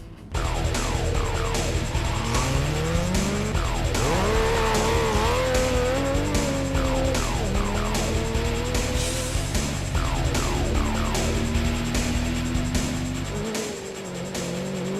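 An off-road rally car of the Regent Racing team drives hard on dirt, its engine loud and close, revving up and dropping through gear changes in a continuous roar.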